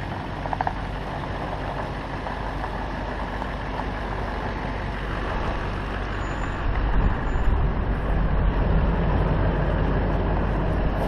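Heavy machinery lifting a truck onto a trailer, a steady low diesel-like rumble throughout that grows slightly louder and rougher in the second half, with a faint high whine and occasional clanks.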